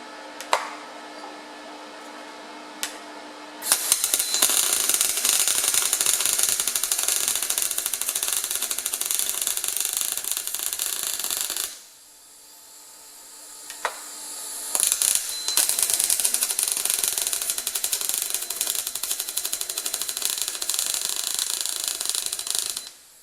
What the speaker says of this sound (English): Lucky they make grinders.